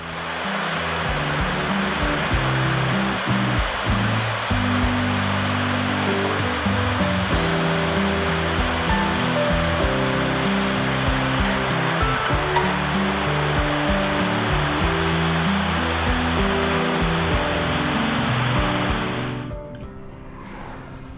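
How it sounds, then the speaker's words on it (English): Undine Falls waterfall in Yellowstone National Park, a loud, continuous broadband rush of falling water throughout, cutting off sharply near the end. "A couple of miles past that is Undine Falls,"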